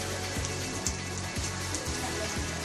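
Steady, dense rain pours down in Dehradun, a continuous loud hiss of drops on surfaces with no voices, broken only by faint regular low thumps.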